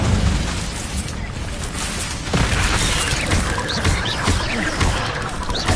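A fiery Incendio spell is cast in the Hogwarts Legacy video game, a dense roaring whoosh of flame with booming impacts, continuous and loud throughout, with louder bursts in the second half.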